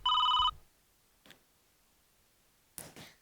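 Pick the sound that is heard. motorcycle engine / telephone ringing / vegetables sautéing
telephone ringing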